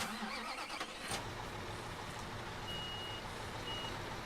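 Reversing beeps from a cement truck in Construction Simulator 2015, a steady repeating alarm over a continuous engine rumble from a construction site, no talking.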